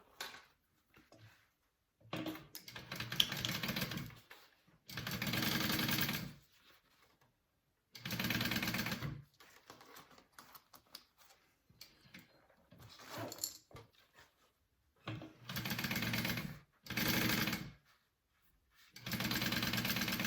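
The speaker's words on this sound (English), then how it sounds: "we are just going to top stitch or stitch that at an 1/8 inch seam allowance as well" A sewing machine top-stitches a zipper at an eighth-inch seam allowance on a duffel bag, running in several short, close bursts separated by pauses, with no talk.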